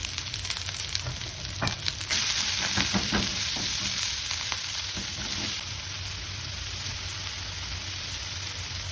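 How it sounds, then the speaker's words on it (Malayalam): Onion and green chili frying in hot oil make a steady, close sizzle, with scattered crackles and stirring scrapes in the first half. "എണ്ണ ഒഴിച്ചതിന് ശേഷം ഉള്ളി, പച്ചമുളക് ഇടാം, ആവശ്യത്തിന് ഉപ്പിടാം."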